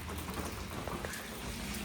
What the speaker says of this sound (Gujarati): વરસાદ બંધ થયો નહીં